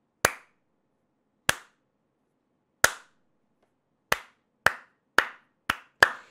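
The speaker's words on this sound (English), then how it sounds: "AMD deserves a slow clap on this accomplishment" A single person's slow clap, sharp isolated hand claps spaced over a second apart at first, then quickening toward the end, loud and close in an otherwise silent room.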